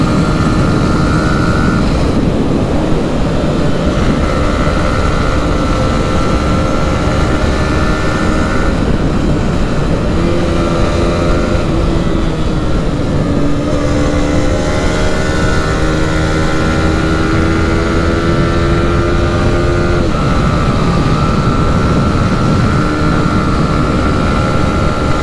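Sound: Yamaha R15 V4 motorcycle riding

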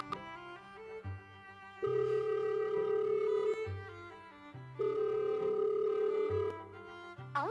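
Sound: telephone ringing unanswered

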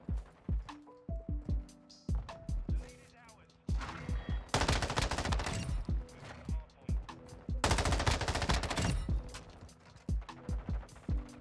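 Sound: M13B rifle gunfire, video game Modern Warfare 2

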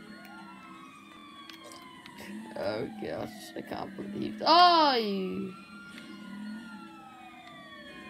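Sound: ambulance siren in a video game

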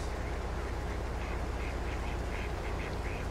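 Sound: ducks quacking

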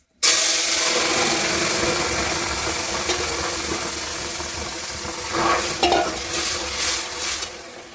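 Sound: frying dried chillies, bay leaves and cumin in oil

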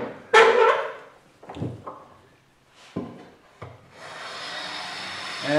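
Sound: hand plane planing edge grain of Northern White Ash

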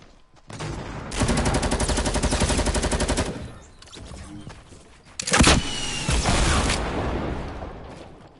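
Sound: rocket launcher firing in video game Fortnite

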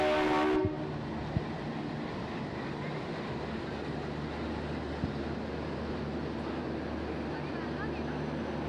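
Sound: Devagiri Express train shunting onto platform

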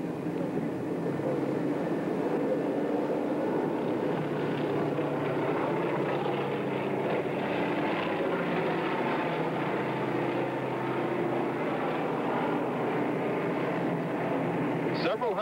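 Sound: recovery helicopter landing on aircraft carrier flight deck

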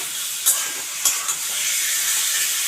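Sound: pointed gourd (potol) frying on high flame

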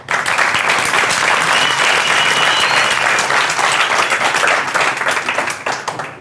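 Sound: applause welcoming a student

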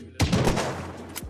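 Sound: gunshot in Unturned battle royale video game

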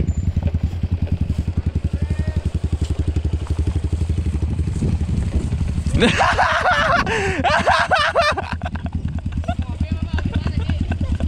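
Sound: group of motorcycles idling

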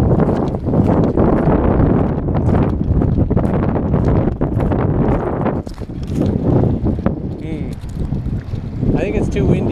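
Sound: wind

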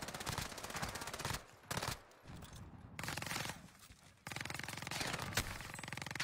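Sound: gunfire in a video game

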